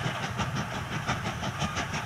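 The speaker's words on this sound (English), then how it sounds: "Skarloey pulled up with another train" A narrow-gauge railway train pulls up, its wheels beating out a steady, rhythmic clatter at moderate loudness with no voices over it.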